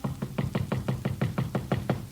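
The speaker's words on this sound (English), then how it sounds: "I hear a knocking on my door." Someone raps on a hotel room door at night, about ten evenly spaced knocks in a quick steady rhythm, close and fairly loud with nothing else over them.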